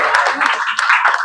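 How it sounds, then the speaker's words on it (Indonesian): Students clap briefly in a classroom during a practice math lesson, a short burst of scattered, uneven claps close by, with voices mixed in. "ini tepuk tangan dulu"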